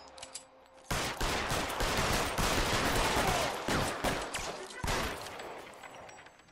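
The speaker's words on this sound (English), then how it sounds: "Wow, he's taking a lot of shots" Rapid gunfire from an L.A. Noire video game shootout, with a sustained barrage of loud overlapping shots after a brief quiet start and a few isolated cracks near the end.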